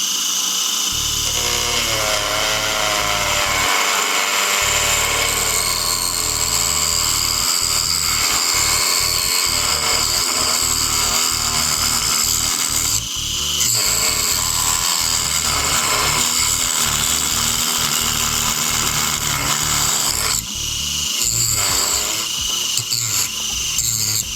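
A Dremel rotary tool grinds and cuts into a wooden rifle stock of poplar on a VZ-52 rifle, a loud, continuous high whine with rapid rasping pulses throughout and no talk.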